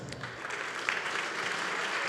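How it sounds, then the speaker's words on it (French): An audience applauds at a 2023 security directors' awards gala, faint, dense, steady clapping without a break, a short stretch of sound. "j'invite vraiment, s'il vous plaît, à l'applaudir."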